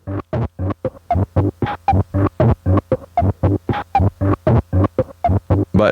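A distorted drum hit on a Circuit Rhythm sampler repeats in a steady fast loop, about four hits per second, each a buzzy, humming throb with a short gap between, loud and alone.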